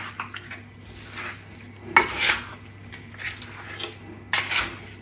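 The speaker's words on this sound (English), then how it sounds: "I'm just going to go ahead and mix in all the flavor." Seasoning and peppers being mixed into food in a bowl, heard as close clinks and scrapes of utensils against the dish in uneven bursts, moderately loud, with no voices.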